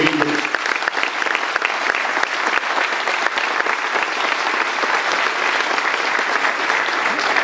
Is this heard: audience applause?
yes